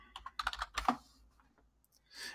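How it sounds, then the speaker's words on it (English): Quick typing on a computer keyboard while entering an email address at a sign-in page, a short run of close, crisp key clicks followed by a brief pause and a softer final burst. "So now when I go in, I can type the correct email"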